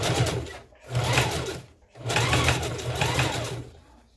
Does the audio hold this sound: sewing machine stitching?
yes